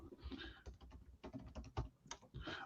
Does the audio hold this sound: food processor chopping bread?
no